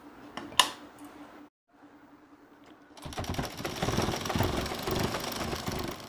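A sewing machine stitching along three sides of a fabric pillow cover runs in a steady, rapid mechanical whir that starts partway through, after quieter clicks and a brief pause, and continues loud and close to the end.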